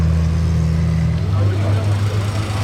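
Sports cars in a small convoy, including Maserati, Ferrari 348 TS, 355 Berlinetta and F8 Spider, idle and roll past nearby with a steady low engine rumble and a slight rise in pitch partway through; no talk.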